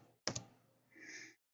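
A few sharp keyboard clicks land close together near the start, fading into a quieter stretch before a softer, hissy sound trails off; the setting is typing a word into a search bar.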